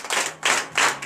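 A church congregation at a Beninese morning prayer service claps in praise of Jesus, with three or four bursts of loud, fairly close hand claps in uneven rhythm and no talking.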